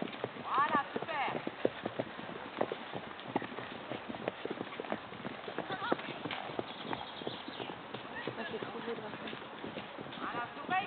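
A horse ridden at a gallop outdoors, with steady rhythmic hoofbeats drumming throughout and occasional snorts, while people talk and call out over the riding.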